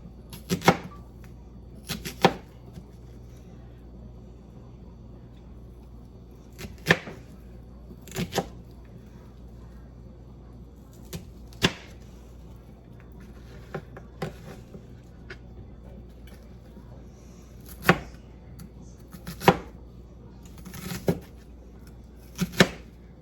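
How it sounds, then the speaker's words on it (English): An onion is chopped small with a knife, the sharp taps coming in short irregular clusters separated by quiet pauses, close and fairly crisp over a low room hum. "So I'm just cutting up the onion kind of small."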